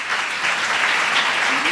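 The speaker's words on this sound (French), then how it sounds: "je vous demande d'applaudir Fadia Oté" Sustained audience applause at a women's rights day celebration, dense and steady clapping from a crowd throughout without a break.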